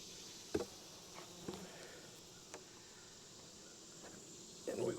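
A cricket chirps near a beehive, thin, faint, steady chirping close by, broken by a few soft knocks and bumps from handling the hive equipment.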